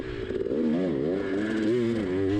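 A dirt bike engine held on the throttle while riding through sand, a close, steady motor drone whose pitch wavers as the revs rise and fall, with no talking.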